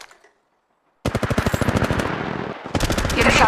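Automatic gunfire in Apex Legends Mobile: after a second of silence, rapid loud bursts of shots ring out in quick rhythmic succession, close and sharp, with a brief gap before a second burst.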